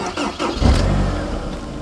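A Honda S sports car turned over with the key, a brief cranking catch rising into a steady, close engine idle with a low rumble.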